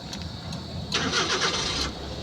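A car engine cranks briefly and catches, settling into a steady running rumble, heard up close after a few faint clicks.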